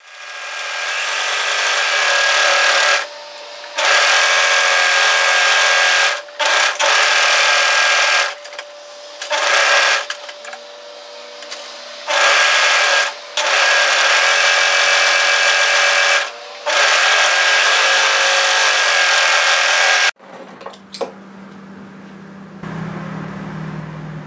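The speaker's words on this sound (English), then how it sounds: "We don't want to overlock that edge, we want to overlock the other one, just the single layer, all the way from one side to the other." An overlocker stitches along the edge of a single fabric layer for a cardigan, its loud steady whirring running in bursts separated by short pauses, then stopping near the end as quieter handling noises follow.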